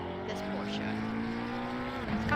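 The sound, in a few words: Porsche race car engine in sim racing video game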